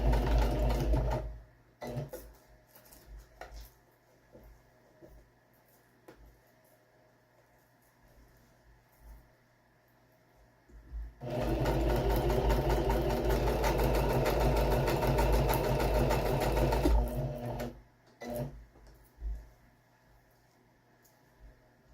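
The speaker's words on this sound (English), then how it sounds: "Now I didn't want to use a straight stitch because the zigzag actually creates a wider stitch, so it helps to keep the Velcro in place better." A sewing machine zigzag stitches a strip of Velcro onto a pillow base. Short bursts of close mechanical whirring give way to a sustained stretch of steady stitching that lasts about six seconds, then stops with a few brief taps.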